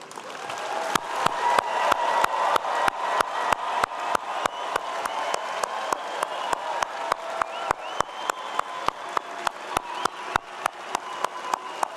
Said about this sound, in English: Let us applaud their achievements